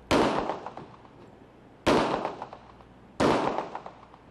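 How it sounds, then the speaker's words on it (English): Three loud .40 caliber pistol shots fired by an officer at a federal law enforcement training range, each a sharp crack with a short decaying ring, evenly spaced about 1.5 seconds apart, with no talking. "See for yourself as the officer fires the weapon. The bullet penetrates this piece of metal."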